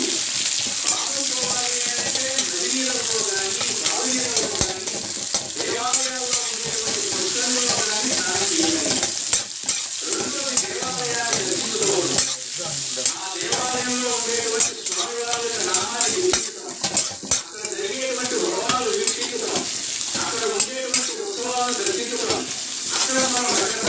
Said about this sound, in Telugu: చూడండి ఇప్పుడు అంత బాగా ఉల్లిపాయలు కొంచెం రోస్ట్ అయిన దాకా ఉంచుదాం.